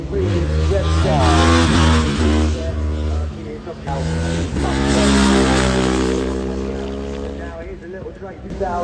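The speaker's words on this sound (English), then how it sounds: "An inline four from absolutely stunning bike. And you can hear that." An inline-four motorcycle engine revs hard at the Goodwood Festival of Speed, a loud, harmonically rich howl that rises and falls through two long pulls, with a voice talking underneath.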